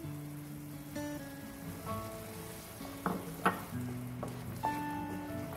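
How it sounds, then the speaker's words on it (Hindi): Spinach puree sizzling and frying in hot oil in a pan for dhaba-style palak paneer, a steady close crackle with a few sharper pops and bursts, no talking. "तो अब हम यहाँ पे डालेंगे पालक।"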